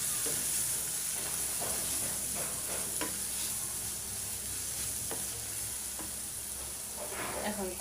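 Dal and potatoes being fried in a pan for a vegetable dal dish give a steady, moderate sizzle with occasional light clicks and scrapes from stirring, close by.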